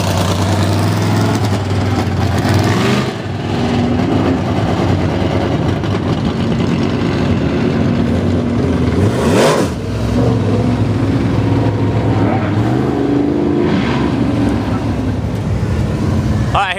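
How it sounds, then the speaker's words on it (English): Five crate class race cars run hot laps on a dirt track, their engines droning loud and steady throughout with a brief dip and a passing surge near the middle, and no talk. "here come the crate cars on the track for their hot lap session"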